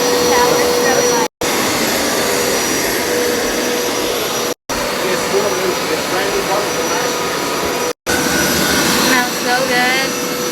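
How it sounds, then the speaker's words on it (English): A Hoover carpet cleaner with steam function shampooing a carpet, a loud, steady motor whine with suction roar running continuously, briefly cut three times, with a faint voice underneath. "So now we are going to shampoo this whole carpet. This is my new carpet cleaner."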